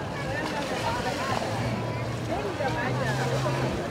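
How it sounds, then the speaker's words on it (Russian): Water sloshing and churning as a boat passes on a canal below in Bangkok, with a low engine hum and wind buffeting the microphone throughout. "Тут снизу прошел корабль, и смотрите,"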